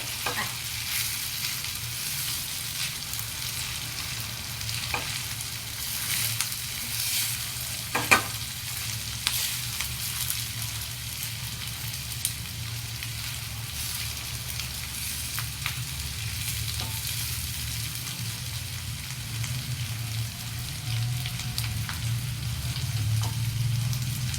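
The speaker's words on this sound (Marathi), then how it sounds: "या प्रकारे आपण फोडणी करून घेतलेली आहे" Spices for a tempering crackle and fry in hot oil for a spicy Khandeshi khichdi, with a continuous, even sizzle close by that lasts throughout with no voices.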